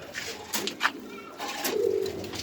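Pigeons on a farm coo in a few soft, low bursts against a faint background murmur.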